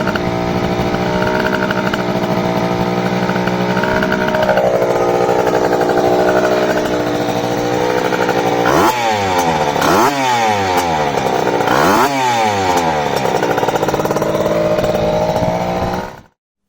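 A freshly rebuilt Rieju RR 85cc two-stroke motorcycle engine runs loud and close after its first start, buzzing steadily, then revving sharply up and down several times before cutting off abruptly at the end.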